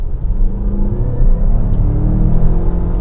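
A 2022 Mazda CX-5 Signature accelerates hard at full throttle from around 30 mph, its engine giving a loud, steady rising drone and rumble that holds throughout without pause.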